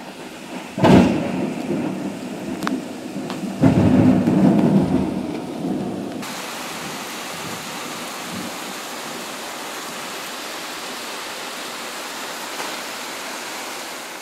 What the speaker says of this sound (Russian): вот как сейчас у нас был дождь